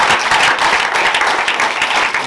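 A church congregation bursts into loud, dense applause, a continuous wash of many hands clapping close and full throughout.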